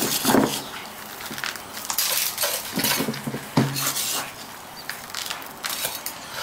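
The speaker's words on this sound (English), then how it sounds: "I like to mix it in an old wash bucket" Bonsai soil of pumice, decomposed granite, builder's sand and potting soil being stirred in an old metal wash bucket, producing scraping, gritty clattering and rattling strokes in an irregular rhythm, close and moderately loud.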